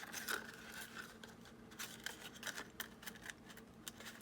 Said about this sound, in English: we're going to go all the way around and cut all the flaps off